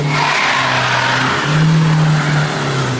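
A car with traction control off on ice revs with its wheels spinning, giving a loud, steady engine drone that rises and falls in pitch as the tires slip, close and continuous.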